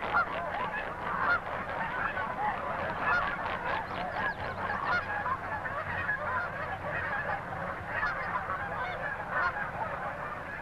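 A flock of Taverner's geese call continuously in the Pacific Northwest, a dense chorus of overlapping honks and cackles that stays loud and steady throughout, with no talking.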